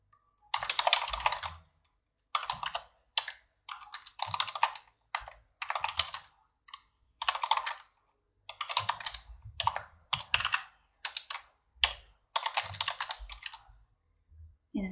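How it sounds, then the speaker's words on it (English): Bursts of typing on a computer keyboard, entering a line of text, come in short clustered runs separated by brief pauses, crisp and close with no talking. "So we'll just type that in there."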